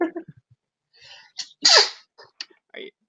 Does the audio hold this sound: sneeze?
yes